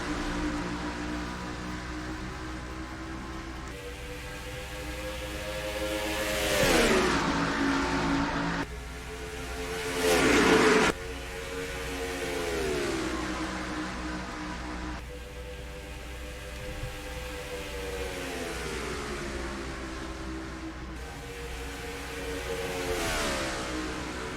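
Racing truck engines roar at the green flag in the NR2003 game at Las Vegas Motor Speedway, a loud, sustained pack drone with rising and falling revs as the trucks accelerate through gear changes.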